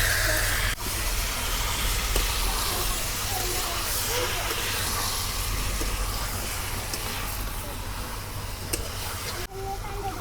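Chicken pieces hitting a pan of reddish fried onions for a curry, giving a steady broad sizzle and hiss that runs throughout at moderate level, with a couple of brief clatters.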